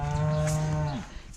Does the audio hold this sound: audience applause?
no